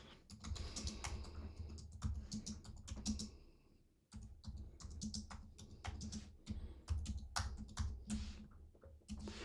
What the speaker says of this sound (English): Can somebody teach me how to type on a keyboard and do two things at once?